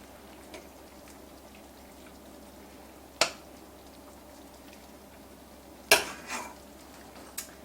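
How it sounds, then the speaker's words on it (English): Lemon parmesan sauce ladled from a pan over spaghetti: a quiet kitchen with a few sharp metallic clinks of ladle on pan and softer scraping between them, no talk. "I'm going to ladle, let's turn this off first, a little bit of that sauce over the spaghetti"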